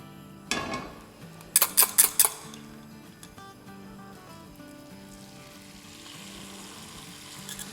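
Half of a beaten egg poured into hot oil in a pan over a medium flame, starting with a loud burst of sizzle and a few sharp clinks of a utensil against the pan, then settling into a steady soft frying hiss.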